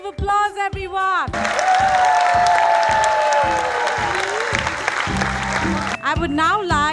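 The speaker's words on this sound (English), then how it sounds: "Can we please give them a big round of applause, everyone?" Audience applauds at a kindergarten annual day celebration: a dense, steady burst of clapping and cheering lasting several seconds, framed by an amplified voice speaking at the start and end.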